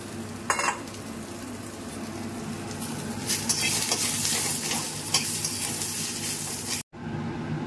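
Green beans tossed into a hot pan and frying with a steady, close sizzle, a few sharp stirring clinks early on, the crackle running continuously before cutting off abruptly near the end.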